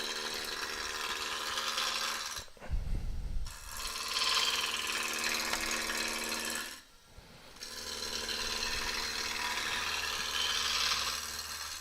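A wood lathe spinning a spindle as a large spindle roughing gouge cuts it, giving a continuous loud rasping, rushing scrape that stops briefly twice with low rumbles in the gaps, alone with no talk.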